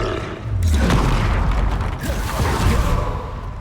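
The Bombarda explosion spell in Hogwarts Legacy goes off as a deep, rumbling magical blast with creaking, mechanical crackle, sustained and loud for several seconds, with no voices heard.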